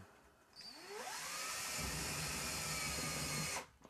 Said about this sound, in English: we're using the 2 little self-tapping screws. Screw them through the pipe into the trim ring.